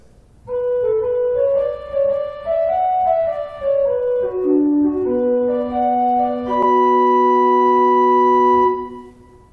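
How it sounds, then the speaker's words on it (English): A harmonic flute stop on the Great manual of a church pipe organ at Faith Lutheran in New Providence plays a descending melody that settles into a held chord, clear and full-toned, with no voices. "And on the great, we have one flute there called a harmonic flute"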